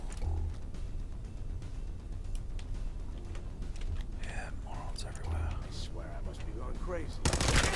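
Assault rifle or pipe rifle gunfire in Fallout 4 rattles in rapid bursts beneath steady rumbling game noise and muffled voices, growing into a loud, harsh blast at the very end.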